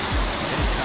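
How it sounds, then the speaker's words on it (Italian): Water splashing steadily in a town fountain at the Giaveno mushroom festival, a loud, close, continuous rushing spatter with no voices over it. "Siamo davanti alla fontana di Giaveno."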